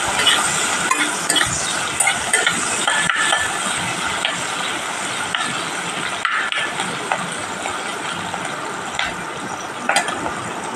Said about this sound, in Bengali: পেঁয়াজটা আমি ভালো করে লাল করে ভেজে নেব